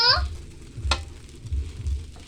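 Fried rice (sinangag) with egg being stirred in a hot pan: a steady low sizzle with a few rhythmic scraping strokes of the spatula, close and moderately loud, no talking.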